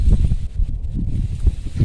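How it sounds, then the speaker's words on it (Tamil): Wind gusts steadily through grape vine leaves, a close, continuous rustling roar with low buffeting and no pauses. "இப்போ எவ்வளோ காற்றடிக்குது பார்த்தீங்களா"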